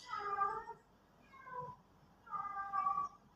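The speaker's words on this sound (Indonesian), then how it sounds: "aduh kucing takut." A frightened cat meows three times in quick succession, the first and last calls drawn out and the middle one short, faint and fairly close in a quiet room.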